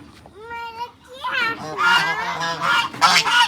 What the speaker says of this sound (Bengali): এটা রাজহাঁস বাবা